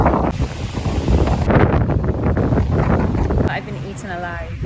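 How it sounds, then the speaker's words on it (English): Strong wind buffets the microphone near Liberia, a loud, rough roar that runs almost without a break, with a few short tonal sounds near the end. "really windy."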